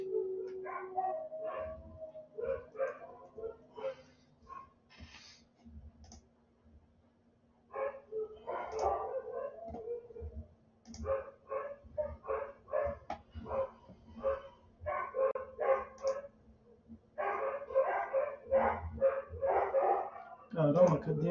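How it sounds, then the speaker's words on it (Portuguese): Dogs bark repeatedly in bursts of sharp yips and barks, some fast and clustered, heard at moderate distance behind an online class session, with a steady low hum throughout. "Os cachorros estão atacados hoje."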